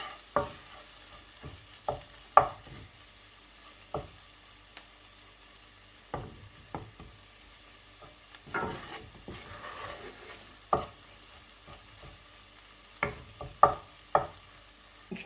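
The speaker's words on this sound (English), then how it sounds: "I've had the spice on the heat for a few minutes, and that's looking like it's cooking through nicely" Spices fry in a pan for a chilli pickle, with soft sizzling under a string of sharp scraping and knocking strokes from stirring, irregular and close, with no talk.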